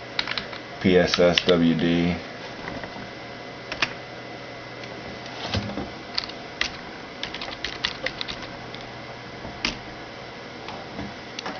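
Keys clatter irregularly on a computer keyboard while commands are entered during a Linux install for an Xbox 360 hard drive, with scattered close taps after a short burst of speech.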